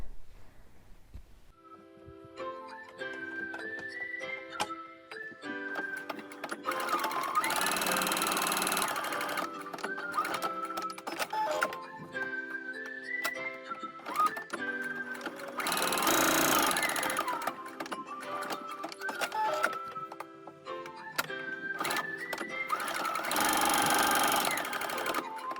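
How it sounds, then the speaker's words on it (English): A sewing machine running a straight seam on a fabric wallet, three long bursts of close rapid stitching, separated by quieter stretches of slow, uneven hand-cranked stepping and clicks. "You could use the inside edge of the presser foot as a guide here so that you can sew a line right here."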